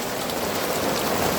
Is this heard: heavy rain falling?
yes